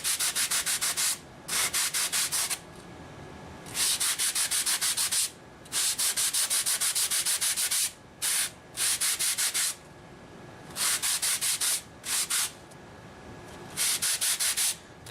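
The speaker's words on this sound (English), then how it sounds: "you just kind of keep on sanding until you hit that line" Steady hand sanding of a motor mount for an FPV race wing, long scratchy rubbing strokes in bursts separated by short pauses, close and fairly loud, with no voices.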